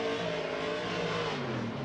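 An LS V8-powered Nissan S13 drift car roars at a distance during a qualifying run on the Irwindale banked oval, its exhaust note holding a steady, strained howl with no talk.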